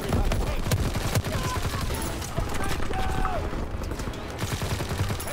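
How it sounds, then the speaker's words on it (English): Dense, sustained gunfire from a Call of Duty WW2 battle, overlapping machine gun bursts and rifle shots cracking loudly and continuously for over five seconds. "They fire on the infantry"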